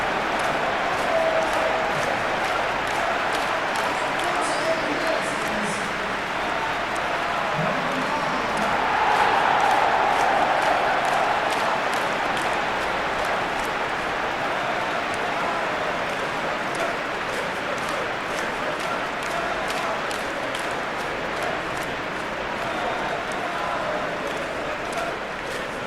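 A steady roar from a stadium crowd in a Manchester City versus Nottingham Forest football video game, a dense and sustained wash of cheering that swells slightly midway and never drops out.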